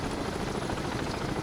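A helicopter in the submarine video game Cold Waters makes a loud, steady, dense rotor roar that fills the clip without pause.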